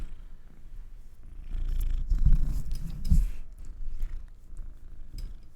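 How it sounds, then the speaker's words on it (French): A cat purrs close to a microphone in a low, rumbling, rhythmic purr that swells and fades, with a few soft bumps and rubs against the mic in between. "Tu veux ronronner?"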